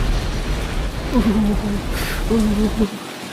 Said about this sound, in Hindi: मुझे नहीं लगता कि अब यह बारिश रुकेगी